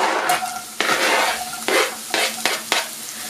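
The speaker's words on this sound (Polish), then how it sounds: "Na rozgrzany tłuszcz daję cebulkę pokrojoną naprawdę w bardzo drobną kostkę" Very finely diced onion goes into hot fat in a pan: a steady close sizzle broken by several sharp clinks and scrapes of a utensil against the pan, no talking.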